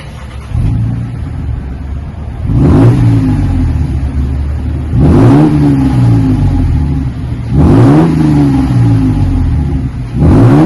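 Deep, throaty 2022 Toyota Tundra exhaust revving through a single-chamber V-tube muffler, three or four rising blips of the throttle separated by a rumbling idle, close and loud.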